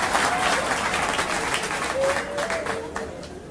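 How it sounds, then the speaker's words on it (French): Applause from a crowd at a political gathering at the Union Nationale headquarters, a continuous wash of clapping that thins toward the end, with faint voices mixed in. "vous voulez applaudir?"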